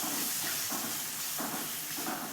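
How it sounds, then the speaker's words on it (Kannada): Chopped onion fries in hot oil with a soft, steady sizzle, quiet and close, pulsing slightly as it is stirred, with no talking. "ಈರುಳ್ಳಿನ ಚೆನ್ನಾಗಿ ಒಂಬಣ್ಣ ಬರೋವರೆಗೂ ಹುರ್ಕೋಬೇಕು ಎಣ್ಣೆಯಲ್ಲಿ"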